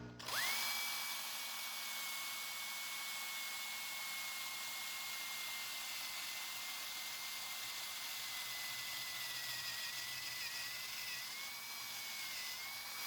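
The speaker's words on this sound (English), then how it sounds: "Now we're going to drill a hole for our cathode connection." Power drill boring a hole for a copper cathode connection in a homemade silver cell, a steady high whine that runs continuously after a brief start and stays close and loud.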